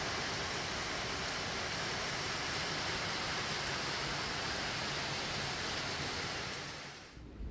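Steady rain falling outdoors at a scenic viewpoint in Maskeliya, Sri Lanka, a loud continuous broadband hiss of heavy downpour that fades slightly just before the end, with no voices.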